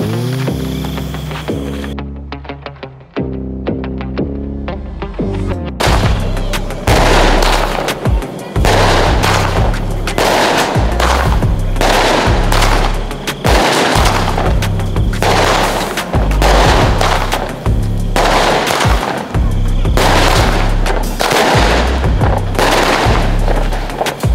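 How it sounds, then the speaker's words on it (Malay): Small cheap Merdeka firecrackers crackle in rapid bursts of sharp pops after a brief tonal lead-in, a loud, dense, irregular string of bangs continuing to the end. "seterusnya kita ada bunga api merdeka yang kecil ni"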